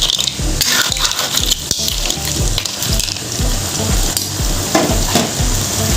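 Boiled seafood fries and is stirred in a pan, a loud, continuous sizzle with repeated clattering scrapes of a spoon against the metal, close up and with no talking.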